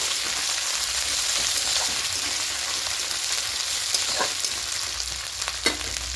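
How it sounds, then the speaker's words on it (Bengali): Ginger garlic paste sizzles and hisses steadily in a pan of hot oil for a Bengali doi katla curry, with occasional spoon scrapes and taps as it is stirred, close and unbroken, no voices. "এবার এখানে আদা রসুন পেস্টটা দিয়ে দেব। খুব ভালো করে কষিয়ে নেব।"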